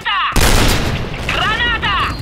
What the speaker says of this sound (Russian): Граната! Граната!